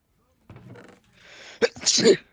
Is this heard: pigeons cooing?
no